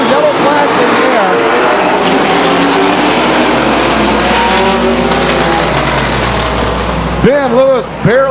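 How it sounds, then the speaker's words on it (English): Grand American Modified race cars roar around Stockton 99 Speedway in 2001, a loud continuous engine drone with cars sweeping past near the end, while an announcer talks over the noise. "Spins his race car, pointing definitely the wrong direction."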